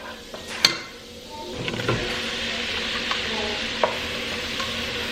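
Brussels sprouts sizzling in a pan with Scotch whiskey, sugar, salt and pepper, a steady close frying hiss broken by a few sharp clinks and scrapes of stirring.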